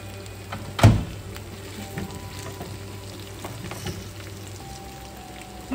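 Mutton for biryani sizzles in a pot in a home kitchen, a soft steady crackle of frying with one sharp clunk early on as the meat is stirred and no one speaking.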